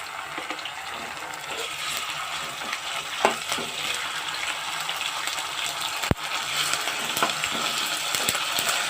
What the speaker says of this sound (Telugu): బాగా ఫ్రై అవుతున్నాయి.